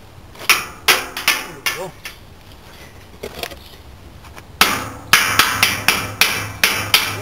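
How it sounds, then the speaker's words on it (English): A hammer tapping a part into place on a spring axle, sharp metallic strikes in two bursts, a handful of spaced hits followed by a quicker, louder run of blows, close up, with a brief spoken remark between them. "I should be able to just tap that in"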